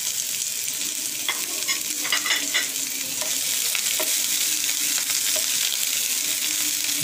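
A spoon scrapes and clinks around a frying pan while soybeans, spring onions, ginger and garlic sizzle steadily underneath, the stirring coming in small, irregular taps.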